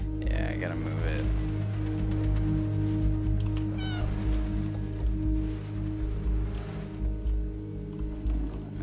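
A cat meows repeatedly in the video game Stray, several rising and falling calls over a bed of steady low game music and ambience, with a voice talking in places.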